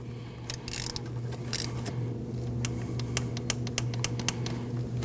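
A torque wrench ratchets down the 10mm valve cover bolts on a 2003–2008 Subaru Forester 2.5L H4, with rapid clicking pawl bursts and sharp metallic ticks close by over a low steady hum.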